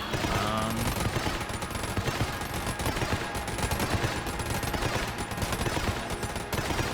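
Rapid, continuous bullet fire in the game Enter the Gungeon forms a dense, unbroken volley of overlapping shots that lasts throughout, fairly quiet overall.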